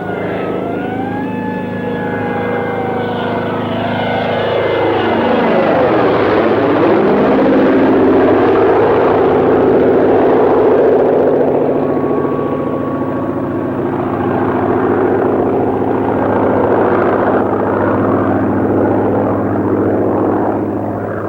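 An American reconnaissance airplane passes overhead in a wartime drama, its propeller engine drone rising loud and steady, with a pitch sweep as it flies by, then continuing to roar.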